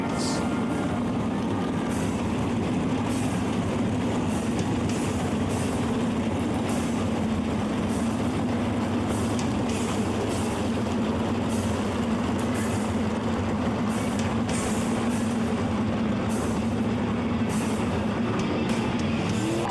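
A field of sprint cars from the Lucas Oil American Sprint Car Series rolls around I-96 Speedway, a continuous loud engine roar heard from a distance that carries on steadily without a break.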